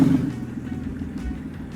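A BMW-engine-swapped 1968 Ford Mustang idles with a steady low rumble, close by and fairly loud from start to finish.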